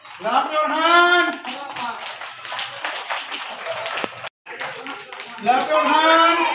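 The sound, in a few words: audience clapping hands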